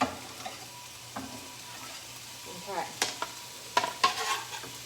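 Faint sizzling and crackling of bacon frying in a pan, with a few scraping stirs and brief clicks; a voice speaks once.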